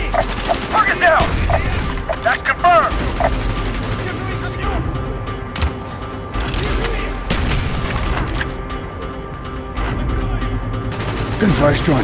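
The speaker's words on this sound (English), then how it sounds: "Gunfire's drawing attention." Heavy Call of Duty gunfire and booming explosions over mechanical clatter, dense and loud, with voices shouting underneath at times.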